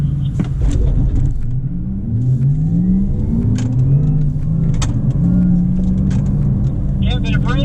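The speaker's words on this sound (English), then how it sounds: "Starting to pick up the throttle now." A Porsche accelerating on a driving course, its engine note climbing repeatedly through the revs with gear changes, loud and close inside the cabin while an instructor talks over it throughout.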